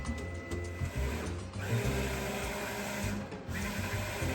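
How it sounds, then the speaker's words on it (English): A Roland VG4 printer lays down black boxes with a continuous mechanical whirring and clattering drive, steady and moderately quiet, with brief surges as the carriage moves. "Now it's just printing a black box on the far left and on the far right."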